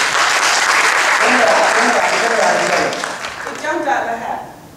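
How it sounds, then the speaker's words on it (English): An audience at a networking talk breaks into loud, sustained applause that fills the room for several seconds, with voices mixed in before it fades. "We've got to give her a clap too."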